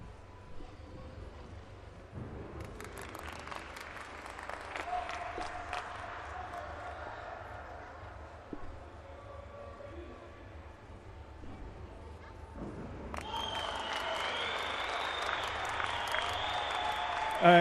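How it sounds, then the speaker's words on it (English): Steady applause from an audience at a men's floor exercise gymnastics final fills the space, a broad wash of clapping that grows fuller and brighter toward the end, with some crowd murmur beneath. "Very polite applause, an accomplished performance to start the men's floor final"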